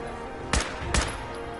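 Gunfire in the video game Fallout 4: two sharp shots about 0.4 seconds apart, moderately loud over a low ambient bed, with no talking.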